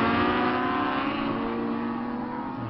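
Racing motorcycles at an Anglesey endurance race roar past on track, producing a sustained high engine whine that fades slightly, heard from trackside with no commentary over it.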